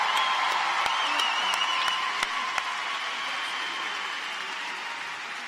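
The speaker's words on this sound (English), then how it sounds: "Big round of applause." Continuous applause from a large crowd at a college commencement ceremony, steady and dense clapping throughout with a few sharper individual claps standing out.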